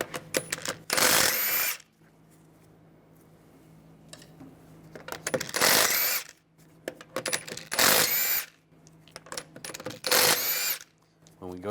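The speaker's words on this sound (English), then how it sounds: "take the lug bolts out." Four bursts of a pneumatic or power tool spinning lug bolts off a 2006-2009 Mercedes-Benz E350 wheel with a 17mm socket, each loud whirring rattle lasting about a second with quieter workshop hum between.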